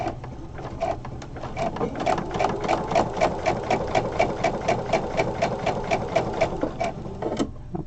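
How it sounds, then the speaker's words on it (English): A sewing machine runs a straight stitch through fabric for a pencil case, a steady fast mechanical chatter of even needle strokes at close range, stopping near the end. "I'm gonna do a straight stitch and then I'll go back and do my zigzag stitch"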